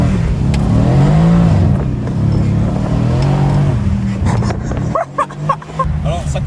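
A Mercedes C63 AMG S rear-wheel-drive car roars loudly up through the revs from inside the cabin, rising in pitch across several gear pulls, with a short burst of crackle and people talking toward the end.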